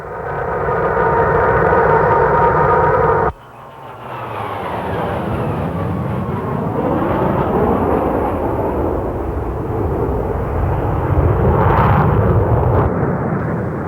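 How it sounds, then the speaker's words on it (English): Jet aircraft roar from a Soviet-built Sukhoi Su-22 attack plane of 1960s design taking off from an air base, starting as a loud steady rumble, then cutting to a sweeping, shifting engine roar with a brief brighter swell near the end. "Soviet-built Sukhoi Su-22 attack aircraft, similar to these Su-7s, took off from the Al-Bumba Air Base."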